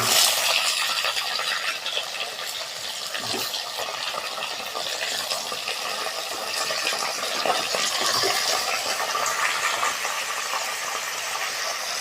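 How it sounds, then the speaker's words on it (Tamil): Mutton bones go into a hot cooking pot with curry leaves, bringing a broad, close sizzle and stirring scrape with a couple of soft thuds, steady throughout and without speech. "இப்போ எலும்பு சேர்த்துக்கலாம்."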